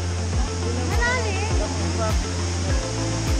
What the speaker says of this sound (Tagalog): So ito na yung pinaka mismong falls.